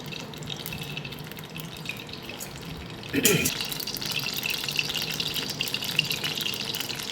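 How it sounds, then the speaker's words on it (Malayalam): Vegetable oil poured into a hot pan for potato snacks, a faint watery trickle that swells into a steady sizzling hiss at about three seconds and carries on to the end. "നല്ല ചൂടായ ചട്ടിയിലേക്ക് എണ്ണ ഒഴിക്കാം ഇത് വെജിറ്റബിൾ ഓയിലാണ്"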